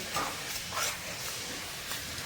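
Ground spice paste sizzles and hisses in a hot kadhai as it is stirred and sautéed, a steady close frying hiss with a few brief louder scraping swells and no speech.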